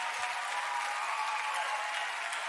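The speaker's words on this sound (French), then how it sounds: "Allez, mettez-vous tous debout, on vous applaudit tous." Sustained applause from a large audience at a charity gala evening, dense and steady clapping filling the whole stretch with a faint crowd murmur beneath.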